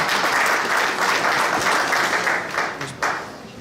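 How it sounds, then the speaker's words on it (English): At a candidates' night meeting, an audience gives a dense round of applause, many hands clapping loudly together and then tapering off toward the end. "Give him a round of applause."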